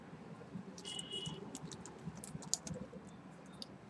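Quiet, irregular keystrokes on a computer keyboard as an item code is entered into ERP software, soft clicks scattered through a low room hum with no one speaking.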